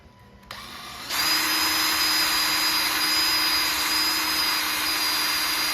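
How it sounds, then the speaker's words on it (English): A power drill spins up abruptly and runs at a steady high-pitched whine, loud and close, drilling out a metal plate on a T56 transmission, continuing without a break. "I'll drill this out."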